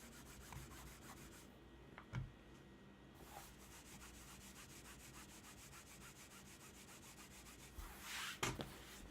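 A computer mouse slides back and forth across a Zowie mouse pad, making a steady, fairly loud scratchy rubbing with a few sharper scuffs along the way.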